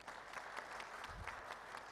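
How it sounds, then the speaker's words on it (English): Audience at a live event applauding, a steady, faint wash of many hands clapping throughout. "A big clapping for you."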